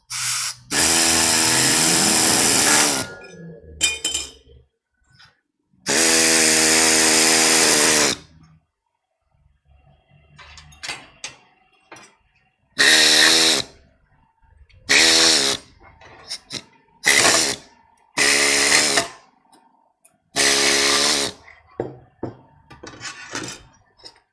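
A power tool cuts workshop parts in repeated loud bursts, two longer passes followed by several shorter ones, separated by quiet gaps with faint clatter and handling.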